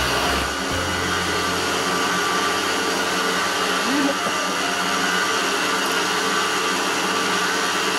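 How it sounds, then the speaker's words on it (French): A stand mixer set to speed 2 runs steadily with its dough hook, kneading Sicilian sfincione pizza dough made with water and oil, a constant motor hum and churning that carries on alone throughout. "je vais laisser la pâte de notre pizza au batteur pendant environ 5 minutes"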